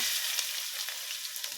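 Sliced onions sizzling in hot oil with bay leaves, a dense, even hiss close by that holds steady for the short span and fades slightly at the end.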